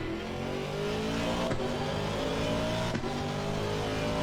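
A race car engine in Assetto Corsa Competizione drones steadily and loud with rising revs through the gears and brief shift breaks, all alone without any voice.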